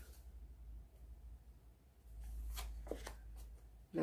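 Tarot cards are shuffled by hand, giving soft riffling and flicking at close range, with a sharper slap near the end and no talking.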